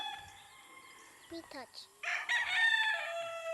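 A gamecock stag, a Kanawayon crossed with Popeye Gray, crows loudly and close up in a single drawn-out call near the end, with brief clucks before it and a person speaking.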